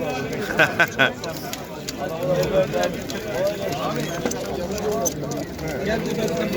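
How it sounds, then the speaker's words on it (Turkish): Pigeons coo in soft, rolling phrases at an outdoor pigeon market, close by, beneath ongoing men's conversation and a few brief wing flutters. "Bu kuşlar festivalden geldi abi."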